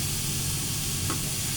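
Food being stirred in a pan, with a spoon scraping once amid a soft steady sizzle and hiss of cooking, quiet and close, no voices.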